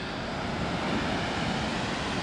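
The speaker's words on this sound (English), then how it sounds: "Got 1, 2, 3 waterfalls. It's like it's cascading." Cascading waterfalls tumble through Dupont State Forest in North Carolina, a steady, dense roar of rushing water that fills the whole stretch with no voices.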